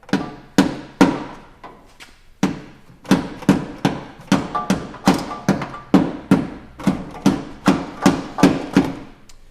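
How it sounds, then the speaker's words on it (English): A dead blow hammer strikes a metal lip on a Toyota Tacoma during a coilover install, about twenty sharp, close thuds in a steady, fairly even rhythm. "Now I'm going to take a dead blow hammer or a small hammer, and I'm going to bend this lip back over again"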